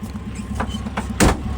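An early Bay VW Dormobile campervan with a 1.6 engine idles steadily, a low throbbing rumble close by, broken by a few brief clunks and a louder knock near the end.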